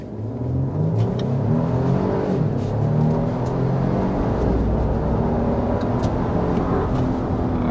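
A 2025 Nissan Armada Platinum accelerates to 60 mph, a loud, steady engine drone rising in pitch through the run, heard from inside the cabin with road and wind noise underneath.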